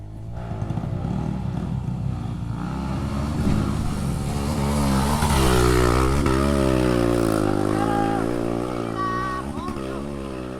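Suzuki DR-Z dirt bike climbs an enduro farm trail, its engine loud and close, revving and straining with rising pitch as the throttle opens, with brief voices in the background.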